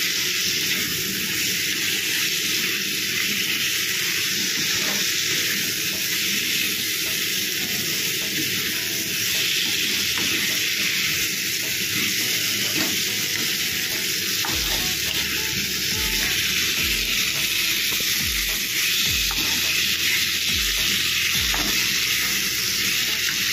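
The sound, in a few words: mushrooms frying and being stirred in a pan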